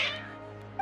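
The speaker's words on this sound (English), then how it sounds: "Your cats seem pretty worked up." Cats in the Genshin Impact video game give a short meow at the start, then a faint second mew near the end, over a steady low game hum.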